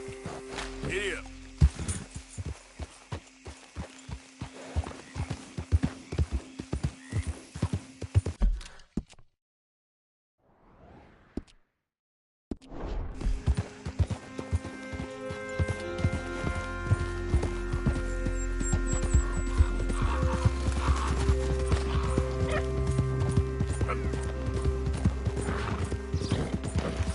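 Hooves clip-clop in a rapid galloping rhythm with occasional whinnies from a horse in Red Dead Redemption 2, a brief near-silent break midway, then the steady drumming resumes with a low rumble beneath; someone briefly talks and urges the horse on.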